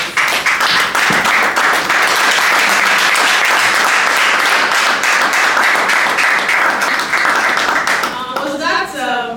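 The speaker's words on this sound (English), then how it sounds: "please give Taiwo Aina an embarrassing applause." A lively audience applauds Taiwo Aina at a talk on documentary photography and storytelling, loud, dense clapping sustained throughout before it thins into scattered claps as a voice begins at the end.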